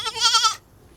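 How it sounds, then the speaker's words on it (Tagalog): A goat standing submerged in floodwater gives one loud, close, wavering bleat for about half a second, then falls quiet. "So ito yung kambing ko, lubog sa tubig."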